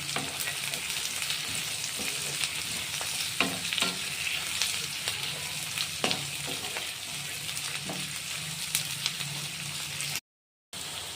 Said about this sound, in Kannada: ಎಣ್ಣೆಯಲ್ಲಿ ಒಂದೆರಡರಿಂದ ಮೂರು ನಿಮಿಷ ಚೆನ್ನಾಗಿ ಫ್ರೈ ಮಾಡ್ಕೊಳ್ಳಿ